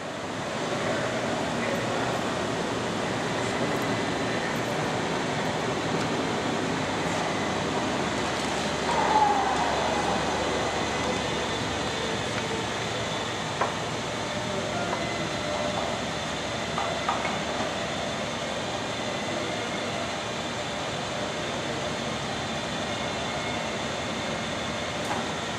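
A Leblond 31 x 144 Model NI lathe in very good condition turns at 100 RPM, giving a steady, even mechanical drone with faint rattling that stays level throughout.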